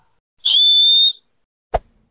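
A whistle candy gives a single shrill, steady whistle tone held for about a second, followed by a short soft pop, with silence between.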